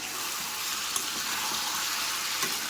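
Onions frying in a pan over a gas flame, a steady bright sizzle with faint crackles and a couple of small pops, close and continuous with no talking.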